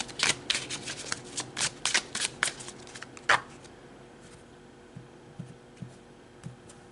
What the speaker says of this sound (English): let's pull another card for you guys